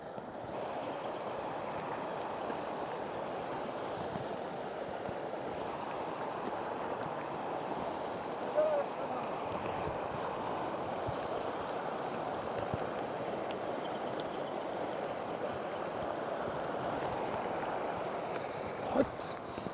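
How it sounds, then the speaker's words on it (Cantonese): A mountain river on the trail up Mount Siguniang's Big Peak rushes steadily as a broad, even roar, with no talk and only faint footsteps or knocks. "行前多2步咧，就要過河啦"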